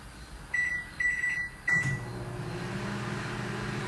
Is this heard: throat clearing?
no